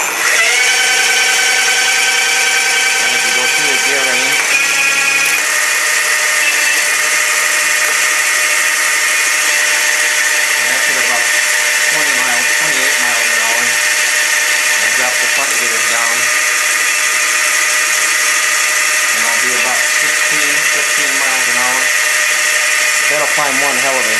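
An electric hill-climber bicycle with dual mid-drive and hub motors whines loudly and continuously, the pitch rising and shifting as gears change, with bursts of mechanical chatter throughout.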